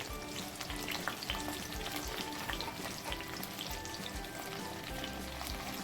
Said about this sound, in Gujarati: આ મરચાંને પણ આપણે તેલમાં સરસ રીતે સાતળી લઈશું.